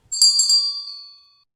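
A bright bell notification chime rings once with a few quick strikes, then its clear tone fades slowly into silence.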